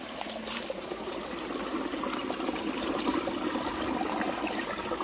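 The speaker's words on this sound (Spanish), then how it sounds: "Encontramos el ojo de agua entonces." Water from a small spring trickles out from under rocks outdoors, a steady close continuous babble and dribble with no talk.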